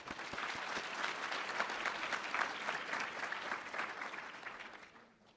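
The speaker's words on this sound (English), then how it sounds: "A little round of applause for these 5 people." An audience at a university HCI conference's closing keynote applauds, a dense steady wash of many clapping hands that holds evenly for about five seconds before fading out at the end.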